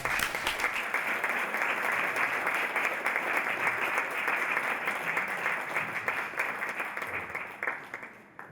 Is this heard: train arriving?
no